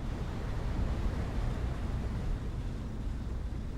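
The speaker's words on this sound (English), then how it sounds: "That is the sound of the Imo's engines suddenly being thrown into reverse." Low, steady rumble of the Imo steamship's engines being suddenly thrown into reverse, a continuous churning throb heard alone at even loudness throughout.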